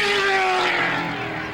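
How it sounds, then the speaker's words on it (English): A Zytec V8 Formula 3000 race car engine held against a low rev limiter, a loud, continuous high-pitched buzzing drone with a faint stuttering roughness, steady throughout at close range. "Does his engine sound rough, or is that rev limiter?"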